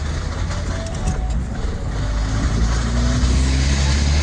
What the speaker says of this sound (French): a un problème au niveau de l'embrayage. Ouais, ça s'entend